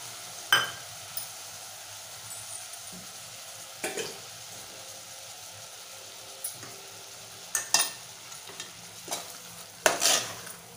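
A spoon stirs a bowl of ground onion-coconut paste into spicy chicken gravy frying in a pan, giving scattered scrapes and light clinks over a soft, steady sizzle.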